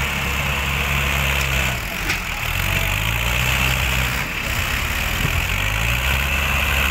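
Tractor engines, including a 585 XP Plus and an Arjun 555, labouring as they pull cultivators through soil in a field, a loud continuous low diesel drone that rises and dips slightly under load.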